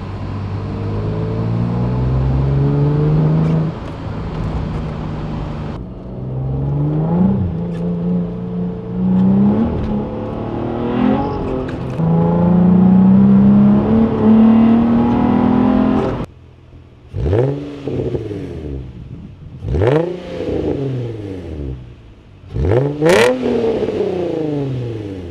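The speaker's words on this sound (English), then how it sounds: "We're gonna do a little bit of a in-car sound right now." In-car sound of a Nissan 350Z / Infiniti G35 with a Magnaflow exhaust, heard first as steady acceleration with engine pitch climbing through the gears, then as several sharp, raspy throttle blips rising and falling with pauses between.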